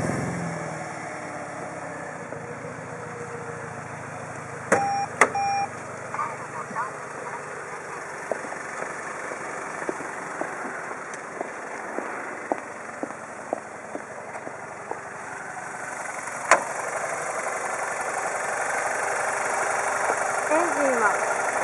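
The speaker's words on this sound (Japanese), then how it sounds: "エンジンをかけてみます。" A BMW 320i's N46 150-horsepower four-cylinder engine turns over with a few sharp clicks, then settles into a steady, even idle with light ticking, heard from nearby.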